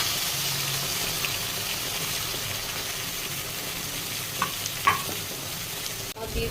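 Spice paste fries in hot oil with bay leaves for Bangladeshi prawn malaikari, giving a steady close sizzle with a few light clicks and scrapes toward the end.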